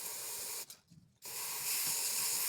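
An aerosol spray can hisses onto a piece of cardboard box, two close, loud sustained bursts separated by a short pause.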